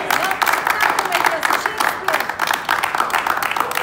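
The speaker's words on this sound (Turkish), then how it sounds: "alkışınız sağ olsun" A theatre audience at a Shakespeare comedy claps in steady, dense applause that fills the room throughout, with voices mixed in over the clapping.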